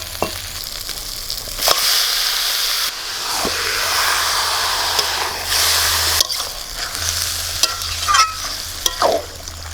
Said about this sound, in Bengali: এবার মশলার সাথে মাংসটা ভালো করে কষিয়ে নেব